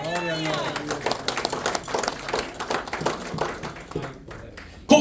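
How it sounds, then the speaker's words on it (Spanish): A church congregation breaks into clapping while a preacher's voice carries over the top, with dense overlapping hand claps that continue throughout before a louder burst at the very end. "Dale un aplauso a Cristo"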